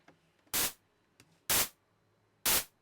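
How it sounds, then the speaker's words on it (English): A synthesized clap built from white noise in Massive X sounds three times at a steady, roughly one-second interval. Each hit is a loud, bright noise burst with a short tail, and each is preceded by a faint flam-like tick. "I'm going to start with white noise, because that's always a good place to start with a clap."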